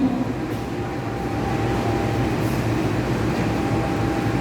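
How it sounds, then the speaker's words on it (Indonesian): Airlangga passenger train pulling out of Semarang Poncol station, a steady low rumble of rolling wagons with a faint whine above it, continuous and close, with a brief voice at the start. "Kereta api Airlangga pun melanjutkan perjalanan ke stasiun lainnya."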